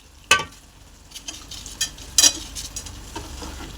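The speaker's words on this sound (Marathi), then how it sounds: "मस्त प्रकारे हलवून घ्या, एकजीव करून घ्या गुळाला आणि भरड्याला." A spoon works a thick mixture of jaggery, ghee and bharda (coarse roasted flour) around a pan, giving a few sharp scrapes and taps spaced over a few seconds against a quiet background.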